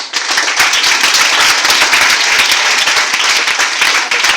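A congregation at a worship gathering claps loudly and steadily, a close, dense burst of many hands with brisk rhythmic slaps running through the whole stretch.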